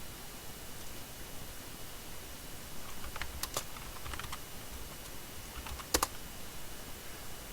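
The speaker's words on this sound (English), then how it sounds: "Doing a lot of typing errors today." Quiet computer keyboard typing while coding in VB.NET, in scattered bursts of clicks over a steady background hiss, with a couple of sharper key strikes.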